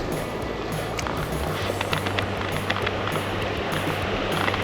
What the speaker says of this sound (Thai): น้ำไหลๆแรงๆ กระแทกกระแทกนะ